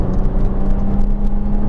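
Jaguar F-Type sports car, 374 horsepower, driving with a steady mid-pitched engine hum and whir at a constant moderate load, heard from inside the car with no voices.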